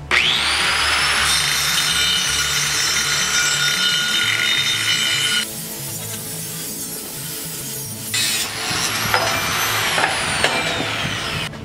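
A saw grinds steadily through a thick metal cylinder bell, a loud harsh rasping with a high whining tone. It drops briefly in the middle, then resumes and rings on to the end.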